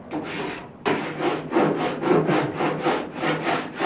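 Bondo body filler on the trunk of a 1929 Chrysler is hand sanded in close, rhythmic back-and-forth rasping strokes, with a brief pause before a steady run of repeated passes.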